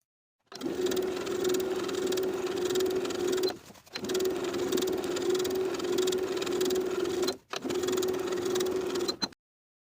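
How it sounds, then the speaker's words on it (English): A sewing machine understitches bias tape to the seam allowance around a jumpsuit armhole. It hums steadily and close by in three long runs, with two short stops between them and no talking. "I'm going to understitch, sewing the bias tape to the seam allowance underneath all the way around the armhole"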